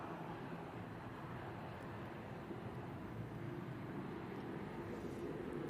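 An Etihad Boeing 787-10 Dreamliner taking off from Manchester Airport gives a distant, steady, broad jet rumble, faint and unchanging, with no voices.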